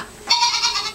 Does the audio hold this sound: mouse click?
no